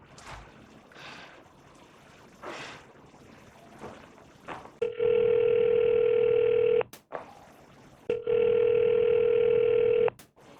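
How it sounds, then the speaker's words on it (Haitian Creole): A telephone rings unanswered, with two long, loud, steady electronic ring tones each lasting about two seconds and separated by a short gap. Quieter rustling and background noise come before the rings. "Le téléphone a sonné sans réponse."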